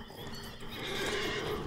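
A horse neighs loudly in Lord of the Rings Online, a long whinny with a fantasy-game backdrop, with faint hoof clip-clop blending in as the steady sound swells toward the end.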